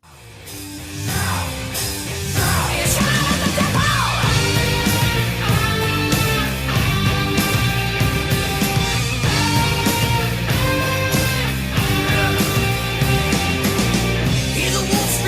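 A hair metal track plays as a dense, loud recording with a driving beat and full band sound throughout, starting softly and rising to steady full volume.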